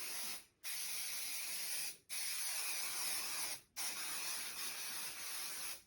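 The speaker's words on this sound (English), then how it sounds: "So spray your wadding, and you're going to give it a good spray." An aerosol can of spray adhesive hisses onto quilt wadding in three long bursts with short pauses between, a steady close-up spray.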